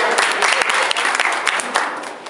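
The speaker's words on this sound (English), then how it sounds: "Give a round of applause for Margaret" A group claps in a brief burst of applause during a diversity name game, loud and close, with a dense, even patter of hands.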